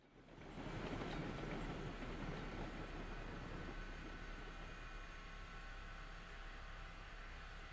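A train rolls along in the Railroads Online railroad game, a steady loud rumbling clatter that builds in the first second and then holds constant with no speech.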